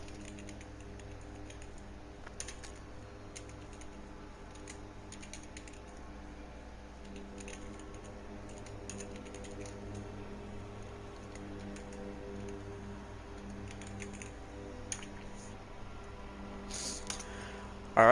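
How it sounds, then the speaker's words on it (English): Keys tapped on a computer keyboard while typing a message during a Gran Turismo 7 online race, a steady soft clatter of irregular keystrokes set against a constant low game-engine drone and hum. "So give me one moment to type out."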